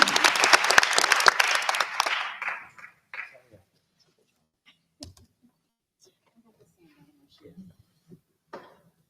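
A room at a Board of Education volunteer recognition meeting bursts into loud applause for the volunteers. The clapping fades out after about two and a half seconds, leaving near silence broken by a few faint scattered sounds.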